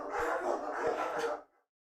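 Several dogs bark in close, overlapping bursts for over a second, then stop abruptly into silence.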